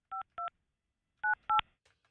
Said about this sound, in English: I got to get Captain Steve on the phone.